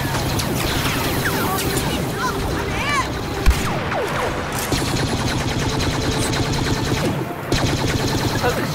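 Rapid blaster fire from many weapons pours onto an exposed AT-AT walker in Star Wars Battlefront, a dense continuous barrage of zaps and bursts with a sharp impact near the middle, battle noise throughout and voices calling out underneath.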